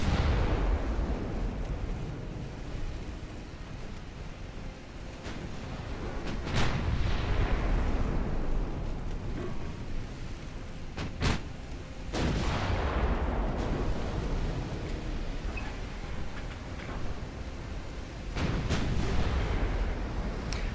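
Naval guns firing in the Ultimate Admiral Dreadnoughts warship game, several heavy booms with long rolling rumbles spread across the stretch, some crisp and close, others dull and distant, over a steady low roar of battle.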